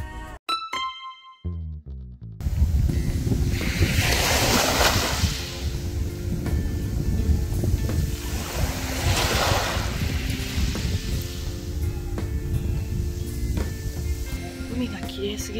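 Ocean waves on the Okinawa coast roll in as a loud, continuous wash with surging swells and wind buffeting the microphone, after a short musical intro.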